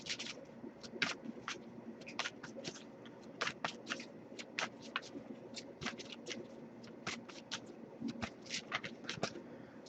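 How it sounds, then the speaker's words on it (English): Tarot cards riffle and slap softly in a quiet room, repeated shuffling with irregular crisp flutters and taps. "I'll give it a few more shuffles."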